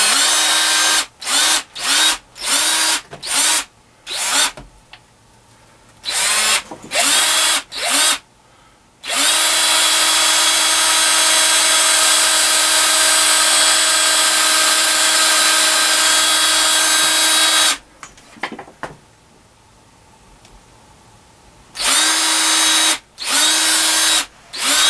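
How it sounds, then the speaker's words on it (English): A power drill bores into a wooden shelf for a DVD player, running in short stop-start bursts before one long sustained whine of several seconds, then more brief bursts, loud and close with no talk. "I'm going to start straight to get a hole started, and then I'm going to angle over so I come out the bottom here."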